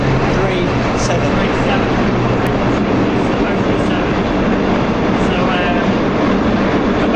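A London train on a line toward Finsbury Park, heard loud and close from on board as a constant rumbling roar with rhythmic rail noise, and someone talks briefly over it.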